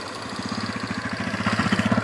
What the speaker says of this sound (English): She's driving her first tractor!